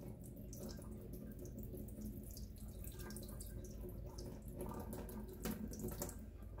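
Tap water runs steadily into a sink while eggplant seeds are rinsed, a continuous close splashing wash with occasional louder gurgles and drips.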